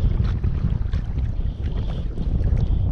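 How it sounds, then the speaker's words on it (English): Strong wind buffets the microphone beside a stillwater during winter trout fly fishing, a continuous low roaring rumble with gusty swells and no voices. "The casting here is quite tricky. The wind is quite strong."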